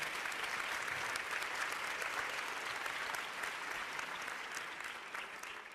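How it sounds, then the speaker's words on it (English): Sustained applause fills the hall at the LUX Audience Award ceremony, with a large audience clapping steadily and fairly evenly at a moderate distance before it tapers slightly near the end. "Give her a big round of applause."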